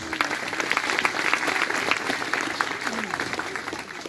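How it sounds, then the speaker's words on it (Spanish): A church congregation claps loudly and continuously for several seconds, a dense crowd of applause with voices mixed in. "denle fuerte palmas a Jesús"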